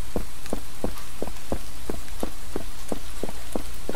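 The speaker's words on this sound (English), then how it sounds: "Now, look how big these raindrops are, man. It'll be flooding here." Heavy rain with big drops in a video game, a dense, loud, steady hiss of rainfall with regular soft thuds recurring about every third of a second, no voices.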